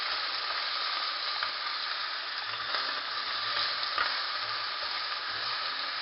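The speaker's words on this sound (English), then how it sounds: "you let the chicken brown a little bit, but because this is curry, you're gonna let the chicken yellow a little bit. So you're frying it" Chicken pieces fry in a pan for Jamaican curry chicken, giving a steady, close sizzle and hiss with occasional faint stirring, no voices.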